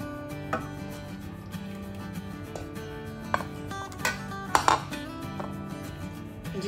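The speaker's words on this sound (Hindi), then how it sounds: "अब मैं इसे डिश आउट करने लगी हूँ बाउल में" Koftay curry ladled from a metal pot into a bowl, with scattered clinks and scrapes of a spoon against cookware over steady background hum and music.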